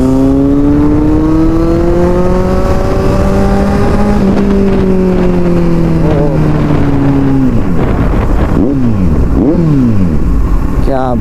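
A superbike motorcycle engine accelerates hard, its rising, sweeping pitch climbing through gears, loud and close, with a brief shift and revving near the end.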